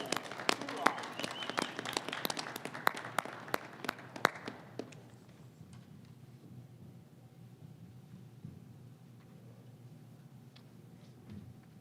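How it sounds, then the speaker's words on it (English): A hearty round of applause fills a hall at a 2020 Grand Lodge installation for a new Grand Master. Dense clapping lasts about four seconds, then fades into quiet room tone with faint voices. "And a hearty round of applause."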